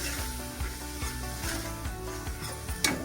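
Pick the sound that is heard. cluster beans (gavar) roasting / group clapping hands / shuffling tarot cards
cluster beans (gavar) roasting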